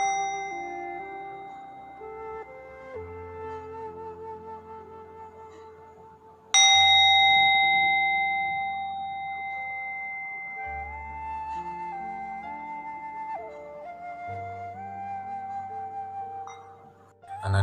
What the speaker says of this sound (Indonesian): marilah kita bersama-sama terlebih dahulu mendengarkan lonceng kesadaran